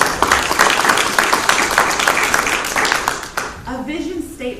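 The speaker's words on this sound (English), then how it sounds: "You guys give her a round of applause." Audience applause at a talk on interviewing skills, a loud dense clatter of many hands for about three and a half seconds, then thinning out as a voice begins speaking over the fading claps.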